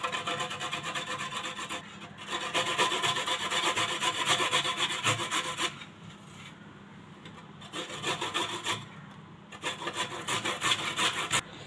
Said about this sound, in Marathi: आता हे मी किसून घेते आधी बारीक किसणीवर